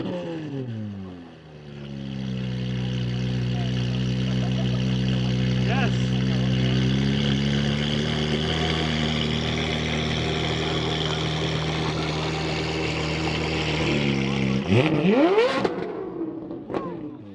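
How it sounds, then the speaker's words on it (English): A car engine revs at a cars-and-coffee meet, its loud steady drone rising and holding before a sharp rev surge near the end, with people talking nearby. "revving his car again"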